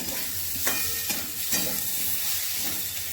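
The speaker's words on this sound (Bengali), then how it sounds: "এবার আমি মশলাটা কষিয়ে নেব" Spice masala with chili powder, ground coriander and cumin sautés in a pan for fish curry with potato and cauliflower, giving a steady hissing sizzle broken by a few distinct scraping stirs, with no speech.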